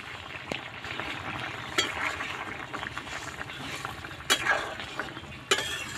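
Fish curry with pipul greens bubbles in a pan, a continuous low simmering hiss broken by a few sharp utensil clinks against the pot.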